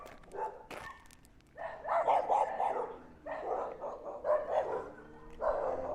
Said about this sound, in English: There's lots of dogs here.